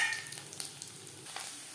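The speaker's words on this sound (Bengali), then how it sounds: "10-15 সেকেন্ড ভেজে নেওয়ার পর দিয়ে দেব নারকেল কুচি।" Grated coconut frying in hot mustard oil with bay leaf and five-spice tempering gives a steady close crackling sizzle with a few sharper pops, and no one talks over it.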